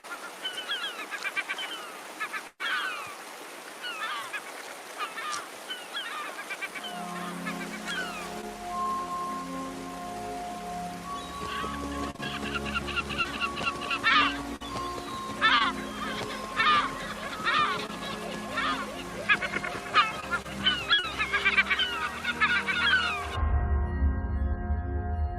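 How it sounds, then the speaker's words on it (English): Seabirds calling in a noisy flock as they feed on salmon leftovers, repeated honking and squawking cries over a steady background wash that suggests waves, the calls growing denser and louder toward the end. "The local seabirds are very grateful for nutritious salmon leftovers."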